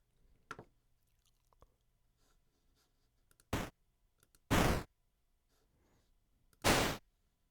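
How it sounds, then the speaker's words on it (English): Computer mouse clicks in a quiet room: a single sharp click, then a few isolated snaps, with three louder, longer bursts of synthesized chiptune sound effects between them as short samples are auditioned one after another. "I'm just double-clicking these to audition them"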